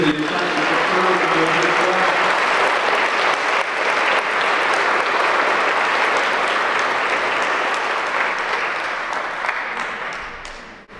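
A church congregation applauds young people: dense, sustained clapping from a large crowd fills the room at a steady loud level for about ten seconds, then thins and fades at the end.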